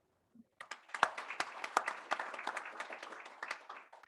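Audience applause at the opening ceremony of a banking research conference, starting abruptly after a brief pause and holding as steady, dense clapping from a sizeable crowd for about three and a half seconds before thinning out.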